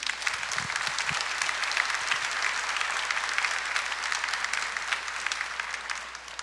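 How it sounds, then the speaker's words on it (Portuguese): A church congregation applauding, sustained dense clapping from many hands throughout, steady and fairly distant, fading slightly at the end. "Pode aplaudir, pode aplaudir."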